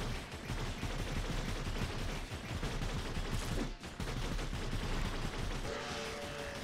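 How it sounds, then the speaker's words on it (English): Dense, sustained gunfire from the roguelike shooter Revita, a constant loud barrage of rapid shots with a brief dip partway through and no voices. "the half damage bullets that we're going to be firing from time to time"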